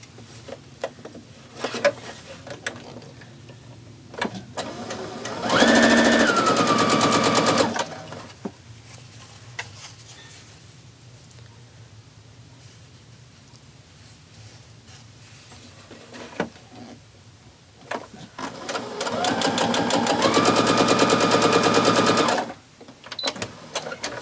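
A sewing machine stitches quilt pieces in two sustained runs of rapid, even mechanical whirring, each several seconds long, separated by quieter stretches of fabric handling.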